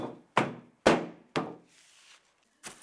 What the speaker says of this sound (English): The dry seed pods are vigorously rubbed by hand or beaten with a stick.